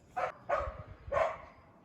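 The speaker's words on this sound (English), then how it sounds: "Sorry, my dog won't stop barking." A dog barks three times in quick succession, moderately close and fairly loud, with short gaps between barks and no talking.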